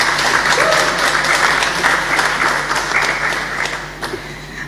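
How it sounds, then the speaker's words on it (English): Steady applause from a sizable audience at a lecture panel in Dominica, dense and continuous, holding at a strong level throughout before easing slightly at the end. "Let's have a round of applause for our final panelists."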